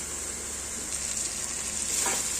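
Masala for chilli paneer sizzles and fries steadily in a hot pan, a continuous crackling hiss with a brief stirring scrape near the end and no voices.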